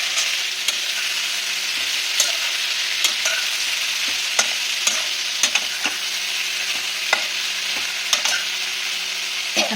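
Ridge gourd and prawns in a mustard curry base sauté in a pan with a steady loud sizzle, punctuated by regular sharp scrapes of a stirring spatula.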